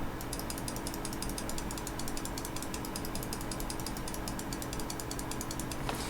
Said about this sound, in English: That's just me alternating mouse 1 and mouse 2.